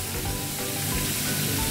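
Carrots frying in oil in a pan while meatballs are being cooked, giving a steady, loud, even sizzle throughout with no pauses.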